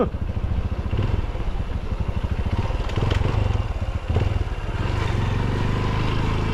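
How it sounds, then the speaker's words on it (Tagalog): A Honda CRF motorcycle rides along a rough road, its engine droning steadily up close while the frame and wheels rattle and clatter over bumps throughout. "Kawawa ang motor pagka hindi CRF dito."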